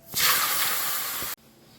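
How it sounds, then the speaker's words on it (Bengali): Shrimp dropped into hot oil in a wok gives a loud, steady sizzling hiss that lasts just over a second and then cuts off abruptly, leaving quiet room tone. "কড়াই তেল দিয়ে এবার চিংড়ি মাছগুলো ভেজে নেব"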